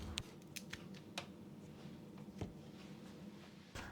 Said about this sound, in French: j'ai pris un avocat que je viens ensuite couper